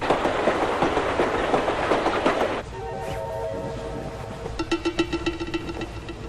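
A moving train rattles on the rails, loud rhythmic clatter of wheels over joints, then a quieter interior hum followed by renewed regular clickety-clack beats, with no talk.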